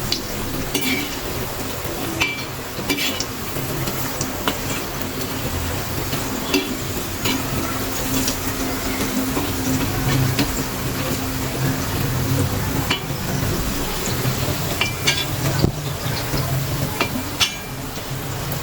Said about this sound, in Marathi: मंद आचेवरच तळायची आहे वडी.